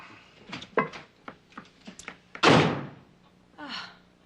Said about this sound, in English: Why does he always have to slam the door?